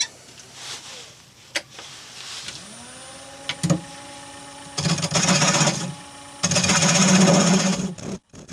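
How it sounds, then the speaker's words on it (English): Bowl gouge cutting yew wood on a spinning lathe, scraping bursts near and loud that come in two sustained passes, with quieter taps and faint lathe hum before them. "I'm going to go to a smaller bowl gouge"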